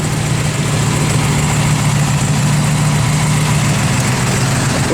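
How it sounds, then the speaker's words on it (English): A 1969 Chevrolet Camaro RS/SS engine idles steadily and close by, a deep even rumble that holds the same level throughout with no clear revs. "Rev it, Jordy."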